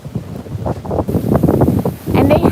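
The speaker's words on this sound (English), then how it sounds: "Seriously, it's so windy" Gusty wind buffets the microphone with low rumbling bursts, and voices murmur faintly underneath.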